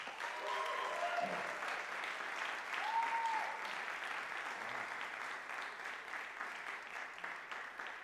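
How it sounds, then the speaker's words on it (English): Sustained applause from a large audience, a dense steady patter of clapping that holds evenly for several seconds. "let's give him a round of applause"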